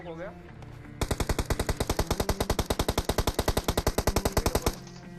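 Rapid automatic gunfire in PUBG Mobile, a long unbroken burst of evenly spaced loud shots lasting about four seconds, starting suddenly after a short stretch of quieter game sound.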